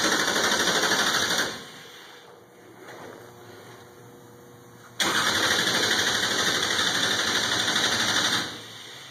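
A race engine cranks over after sitting through winter, loud steady bursts of starter-driven turning that stop briefly, then resume in a second long run, with a mechanical whine throughout.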